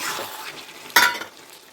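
A spoon stirs and mashes Bengali dry cabbage and peas curry in a pan, with a soft scraping sizzle and one sharper clatter midway.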